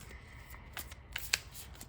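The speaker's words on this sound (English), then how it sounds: "That's a nice shuffle." A deck of playing cards being shuffled, with quick riffling bursts and a few sharp card snaps, moderately close and fairly quiet, with no talking.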